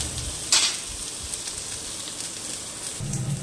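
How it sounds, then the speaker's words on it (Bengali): Onion and black cumin seeds frying in oil in a pan, a steady soft crackling sizzle with a brief louder spatter near the start and a low stirring scrape toward the end, no voices. "পেঁয়াজটাও দিয়ে দিলাম, আর একটু কালো জিরে দিয়ে দিলাম। লাল লাল করে ভেজে নিতে বন্ধুরা।"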